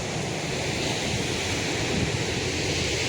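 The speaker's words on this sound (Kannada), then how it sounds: "ಈ ಕಡೆ ಹಿಂಬದಿ ಹೋದರೆ ಇಲ್ಲಿ ಸಮುದ್ರವೇ ನೋಡಿ" Sea surf rolls onto the shore in a continuous, broad wash of noise, steady and fairly loud with wind rumble and no speech.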